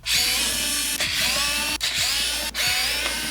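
Four bolts are unscrewed from the underside of an EcoFlow River Max portable power station, heard as a loud, close whirring driver sound broken by three brief pauses between bursts.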